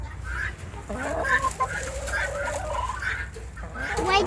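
Chickens cluck repeatedly and close by, their short, busy calls overlapping in quick bursts above a low, steady background hum.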